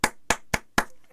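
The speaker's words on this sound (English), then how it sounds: "Give you a better round of applause." Four sharp, evenly spaced hand claps, close and loud, with no voices.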